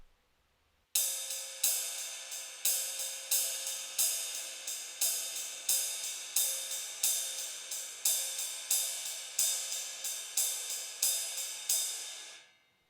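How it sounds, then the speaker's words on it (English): A drummer's right hand taps a ride cymbal in a bright, shimmering pattern, accenting bossa nova groupings with regular stronger strokes, close and alone, after a moment of silence. "we're going to use that with our right hand and play the ride cymbal accenting that"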